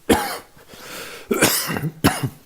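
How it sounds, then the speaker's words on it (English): Someone with a cold coughs and clears their throat in several harsh, close bursts, with short pauses between them. "I'm battling a bit of a cold, so I apologize. I'll try to pause for the most part for coughs."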